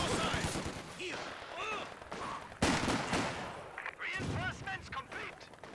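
Rapid bursts of machine gun fire and other gunshots in a Company of Heroes 2 battle, sharp repeated cracks under a commentator's speech with short pauses between the volleys.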